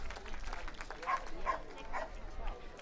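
A dog yips and barks in a few short bursts at a biathlon jumping event in a dog agility competition, heard under steady commentary in a noisy arena.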